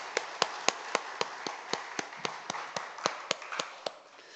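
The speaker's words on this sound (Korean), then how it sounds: "우리 영원하신 하나님께 영광의 박수를 드리겠습니다." Sharp, evenly spaced claps ring out in a church service as a congregation keeps a steady rhythmic beat together, about four per second, clear and moderately loud with no talking over them.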